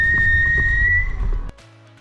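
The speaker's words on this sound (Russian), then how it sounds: "самокат при резком торможении останавливается не меньше, чем за 8 метров, распугивая пешеходов пронзительным свистом" A Kugoo M4 Pro electric scooter's brakes let out a loud, piercing, steady whistle under hard braking, held close for about a second and a half before cutting off abruptly.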